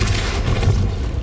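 A Depulso spell cast in the video game Hogwarts Legacy gives a short, loud, booming blast lasting about a second, dense and full with no talk over it.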